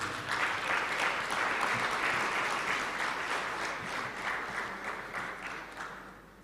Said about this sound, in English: Our guest speaker deserves another round of applause.